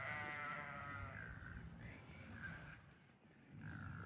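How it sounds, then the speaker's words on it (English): Sheep bleat on a farm that also keeps pigs, giving a few drawn-out wavering calls close by over a rough, noisy background. "Those are pigs. They are pretty loud."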